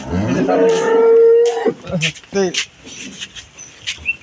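A dairy cow at a cattle sale lets out one long, loud, close moo that fades after about a second, followed by someone talking nearby.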